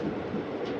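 The Antyodaya Express rumbles at Tambaram railway station, a brief, steady low roar of rolling coaches with no voices.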